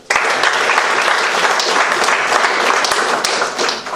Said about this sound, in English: Y'all can clap about that.